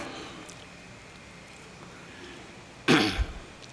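After a stretch of quiet hall noise at a literary conference, a speaker with whooping cough lets out one sharp, close cough, followed by a short throaty rasp.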